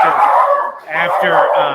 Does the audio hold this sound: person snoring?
no